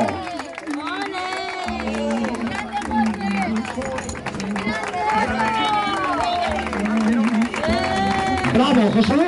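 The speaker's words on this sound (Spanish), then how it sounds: "¡Palmas, palmas, palmas, palmas! ¡Sacude palmas!" An outdoor crowd at a beach football tournament trophy ceremony claps and cheers steadily for the best goalkeeper, a continuous swell of applause with shouting and chanting voices throughout.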